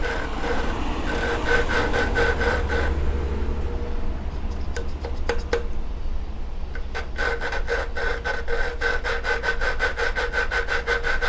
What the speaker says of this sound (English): you're just kind of resurfacing both the valve and the seat on the block